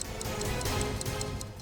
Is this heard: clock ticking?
yes